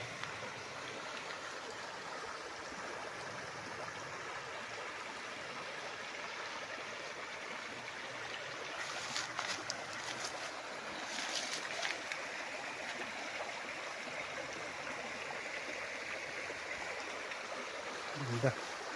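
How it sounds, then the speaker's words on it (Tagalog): A river running beside bamboo on a farm property in Nagcarlan, Laguna, giving a steady broad rush of current at moderate distance, continuous throughout with slight swells and a brief bump near the end. "Ayan, ilog. Ang agos niya pag ganito."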